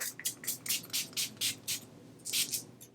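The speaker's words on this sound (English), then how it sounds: "Setting spray time." A makeup setting spray bottle gives a quick series of short misty spritzes in an uneven rhythm, close and fairly soft, with a brief pause before the last bursts.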